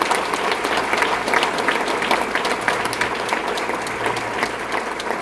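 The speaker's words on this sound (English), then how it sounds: "That's worth a round of applause." Loud, sustained applause from an audience at a business magazine awards event, many hands clapping steadily and densely for several seconds, close and without talk.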